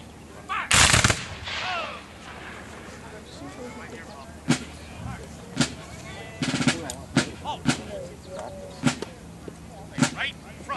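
Civil War reenactors at a Gettysburg living history event fire a rifle volley, with one loud opening crash followed by scattered sharp single shots, close and echoing, mixed with faint shouting.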